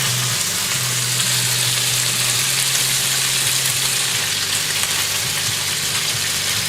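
Breakfast sizzling steadily in an electric skillet at a campsite, a close, continuous crackling fry with a low steady hum underneath and no talking.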